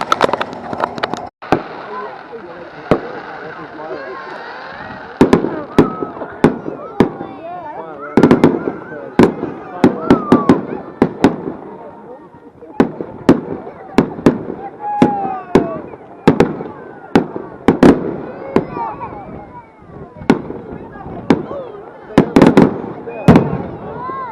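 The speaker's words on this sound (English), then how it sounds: "I've just seen the fireworks. It was quite long. There were a lot of like sparkler effects." A fireworks display with sparkler effects at Great Yarmouth Pleasure Beach, with dozens of sharp, loud bangs and crackles in irregular bursts over a long stretch, and people talking throughout.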